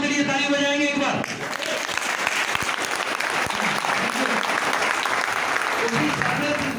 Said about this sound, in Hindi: अपने सपनों के लिए ताली बजाएंगे एक बार